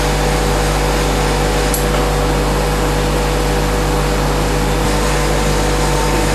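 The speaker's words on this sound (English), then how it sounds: "When the chamber reaches atmosphere, it will make a hissing sound." A thermal evaporator's vacuum chamber venting to atmosphere gives a steady, loud, broadband hiss that holds unchanged throughout, with a low hum beneath and no talking.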